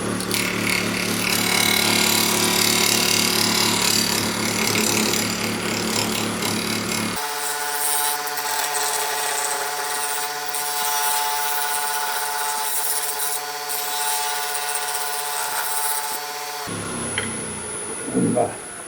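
Lathe tool cutting a wood and epoxy bowl, a dense continuous scraping and rubbing roar with a steady tonal hum in the middle section, loud and close, ending in rougher cutting.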